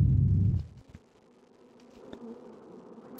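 Bees at an apiary in the Factorio Pyanodon game produce a loud low buzzing drone that cuts off after half a second, leaving faint buzzing and small clicks.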